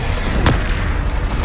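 A Confringo blasting spell bursts in Hogwarts Legacy, one sharp booming explosion near the middle set against a dense, rumbling battle din.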